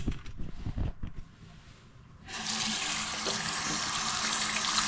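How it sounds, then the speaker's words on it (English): Hands are rinsed under a running tap indoors in Nairobi. Some soft handling noises come first, then a brief lull, then a steady loud rush of water pours for the rest of the moment. "Let me wash my hand"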